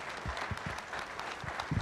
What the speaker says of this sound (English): Is he great or what? Give him applause,